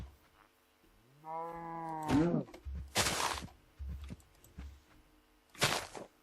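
Cattle in the Minecraft video game give a drawn-out harmonic moo followed by short bursts of game noise and scuffling, moderately loud with no speech.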